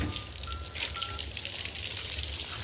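Water gushes and splashes while a cow is bathed, a loud, steady pour with brief changes in flow and no talk.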